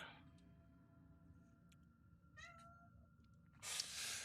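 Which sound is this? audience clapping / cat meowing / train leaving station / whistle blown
cat meowing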